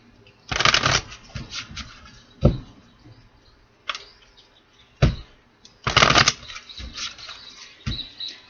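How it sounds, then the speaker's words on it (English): A deck of tarot cards being shuffled in several quick riffling bursts, close and crisp, separated by short pauses and soft handling sounds. "One more shuffle, and then we're going to get 1, 2, 3"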